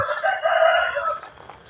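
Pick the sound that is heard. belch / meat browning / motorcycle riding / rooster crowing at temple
rooster crowing at temple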